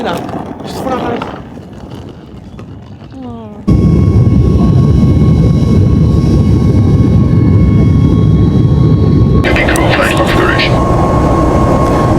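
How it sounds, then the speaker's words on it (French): Airliner taking off on a flight to Morocco, a loud steady engine roar from inside the cabin that swells in abruptly and holds for several seconds, with people talking before and after it. "Là, c'est bon, on s'envole."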